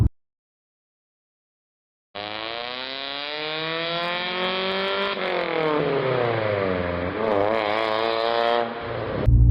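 A car's aftermarket exhaust revs with a raspy, fart-can tone, rising after a silent start into a sustained, swelling drone with shifting pitch and a final surge, loud and close with no talking.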